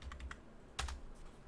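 Computer keyboard being typed on in short quick bursts of clicks, a few keystrokes then a pause and another cluster, fairly close and quiet, with no voices.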